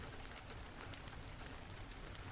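Steady rain falls in a dense, even hiss with scattered brighter droplet ticks, soft and continuous without any voices.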